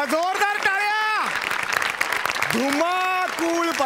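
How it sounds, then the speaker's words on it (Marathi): A studio audience at a Marathi comedy sketch show breaks into a short burst of applause, with loud whooping and cheering voices before and after the clapping. "जोरदार टाळ्या"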